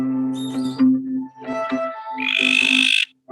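Frogs croak in close, loud overlapping calls, low repeated croaks joined near the end by a bright, sustained high trill from another frog, part of an Australian frog-call recording.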